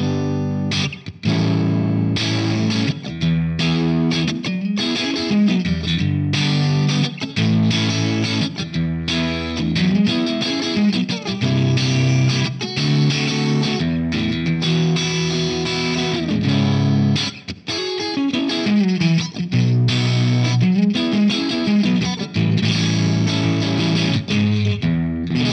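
Electric guitar at an edge-of-breakup tone through a BOSS Waza Tube Amp Expander with reactive load into a G12T75 speaker, adding light room reverb; mildly driven chords and riffs ring out continuously, loud and alone.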